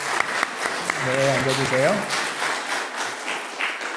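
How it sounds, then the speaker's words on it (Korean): A church congregation claps briefly to welcome newcomers during a Sunday service, a short burst of applause under a speaking voice that continues afterward. "그럼 박수로 환영합니다."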